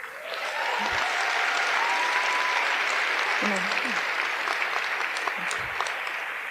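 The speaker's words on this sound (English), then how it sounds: "Oh, you guys are going to clap after every one." Audience clapping steadily at a live storytelling show in Champaign-Urbana, a dense, even wash of applause that holds for several seconds, with faint voices and a few shouts mixed in.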